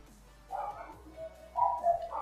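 Dogs bark close by in a few sharp, yelping bursts with short gaps between them.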